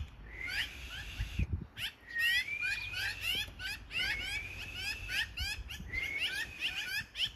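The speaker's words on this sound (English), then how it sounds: "I love those magpies" Harsh, chattering bird calls repeat in bursts, with some squeaky whistled notes, fairly close and continuous over low rumbling background noise.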